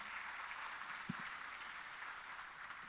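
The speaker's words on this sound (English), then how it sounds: "Please, round of applause for them." Faint audience applause at a school cybersecurity quiz competition, a soft, even patter of distant clapping with a single brief thump partway through.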